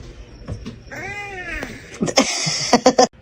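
A cat meows several times in quick succession indoors, drawn-out and close, ending in sharper, strained caterwaul-like cries, with a brief knock partway through.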